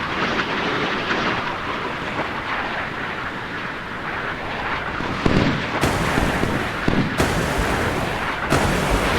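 Missiles being intercepted in a naval combat game pitting Royal Navy against Royal Australian Navy ships, rumbling launches and dull booms building to several sharp, loud bursts in the later half.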